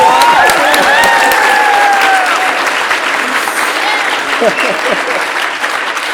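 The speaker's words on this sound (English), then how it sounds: "So a round of applause to Councillor" An assembly audience applauds a city councillor with loud, close clapping that fades slightly over time, while voices talk over it and a few whistle-like tones rise near the start.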